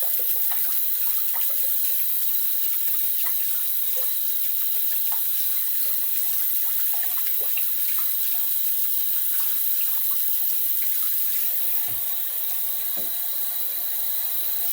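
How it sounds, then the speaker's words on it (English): Tap water runs steadily into a sink as a shaving brush is rinsed under the stream, a continuous close splashing wash with small shifts in the flow throughout and no voices. "Rinse out my brush."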